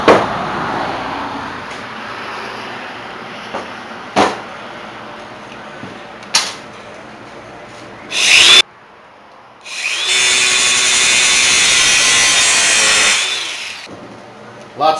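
Metal header tubing for a custom car exhaust is cut with a power tool in one sustained, loud, grinding run of about three seconds, preceded by scattered knocks and clunks of handling.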